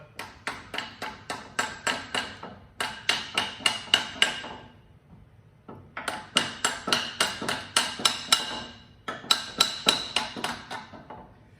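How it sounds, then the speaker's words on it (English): A rawhide mallet taps a gear up the spindle shaft of an XYZ Proturn 420 lathe, landing in quick, evenly spaced runs of sharp, close knocks separated by brief pauses. "So just going to get a mallet, rawhide."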